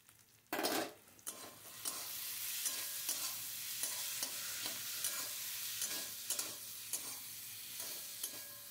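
Ginger and green chilli spice paste frying with potatoes and onions for Bengali mochar ghonto, a steady soft sizzle broken by a sharp clatter at the start and regular spatula scrapes against the pan, close but quiet, no voices.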